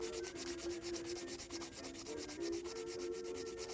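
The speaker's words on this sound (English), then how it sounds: "if the whole thing is dull, then you want to make sure that you sand the whole thing" Dull amber jewelry being sanded by hand, a steady close rasping rub that repeats in quick, even strokes with no talk.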